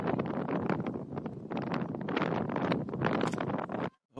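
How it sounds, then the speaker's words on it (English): Strong wind buffets the microphone at an outdoor women's premier softball grand final, a loud, continuous roar with gusty surges that drops away briefly at the end. "the cloud's definitely cleared, but the wind hasn't."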